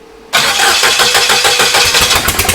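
A VW TDI diesel engine cranks hard and loudly with a rhythmic, chugging starter beat, straining to fire without settling into an idle.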